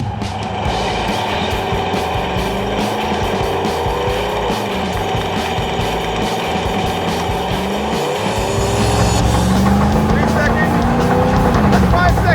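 A beater car doing a tire-smoking burnout, its engine roaring hard and continuous with squealing tires that build louder toward the end, while people talk over the noise.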